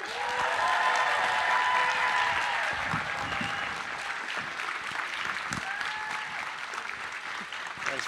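Warm audience applause at a Scifiworld fan convention in Helsingborg welcomes actor Graham McTavish onstage, a dense, steady wash of clapping from a large crowd that holds for several seconds and eases slightly toward the end.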